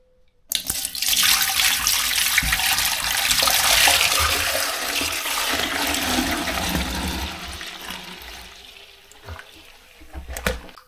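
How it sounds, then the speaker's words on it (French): Ten litres of raw milk pour into a cooking pot in a heavy, continuous gushing stream that starts abruptly, runs steadily for several seconds, then thins out and splashes to a stop, with no talk. "je vais verser 10 litres de lait cru dans ma marmite"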